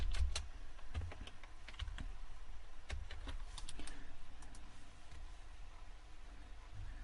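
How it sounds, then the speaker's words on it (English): Someone types on a computer keyboard while working on a 3D model, giving fast irregular clicky keystrokes in short bursts over a steady low background hum, close up with no speech. "type in the name of our new curve there"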